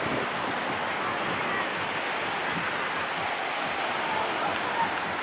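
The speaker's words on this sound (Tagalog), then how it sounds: "Ang lakas ng hangin, grabe." Strong wind roars steadily at Sabang beach in Baler, a broad constant rush with surf blended underneath, loud and unbroken.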